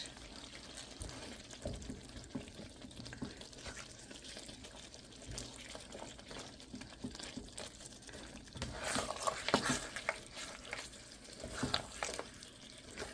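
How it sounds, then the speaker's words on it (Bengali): Beef cooking without water in a pan, stirred as it dries, gives a steady low sizzle with scraping stir sounds that grow louder and busier near the end. "যখন মাংসটা শুকিয়ে আসে তখন একটু নেড়ে দিতে হবে"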